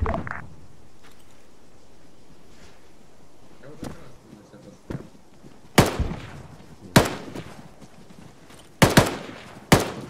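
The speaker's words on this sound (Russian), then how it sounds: "Штаб, что за стрельба?" Gunfire in the military video game Arma 3, with several sharp, loud shots spread across the stretch, some coming in quick pairs, over a low background murmur and occasional faint voices.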